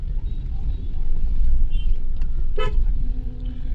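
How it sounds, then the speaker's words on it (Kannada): Heavy road traffic rumbles steadily throughout, with a short car horn toot sounding about two-thirds of the way in and faint voices underneath. "guys full traffic guys"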